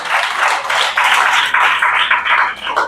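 An audience claps together in a church music school gathering, a loud, close burst of applause in rhythmic waves lasting a few seconds.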